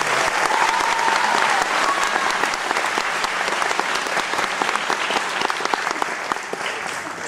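Steady audience applause fills a hall at an anniversary concert of a folk choir in Bulgaria, dense clapping sustained at a fairly loud level throughout, with no speech over it.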